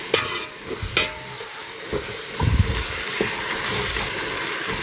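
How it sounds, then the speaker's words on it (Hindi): Tomatoes and onions fry in a pan as a spoon stirs them, giving a steady hiss broken by scraping strokes and a few soft knocks, close up with no talking. "एक ही बार टमाटर डाल के फिर अच्छी तरीके से इसको मिक्स कर देता हूँ"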